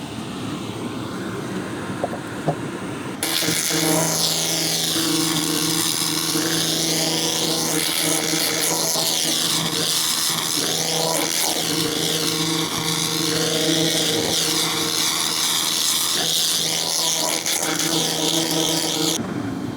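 A fume extractor for a fiber laser cleaning setup kicks on after a few seconds of quiet, then runs as a loud, steady rushing whoosh with a constant whining hum until it cuts off near the end.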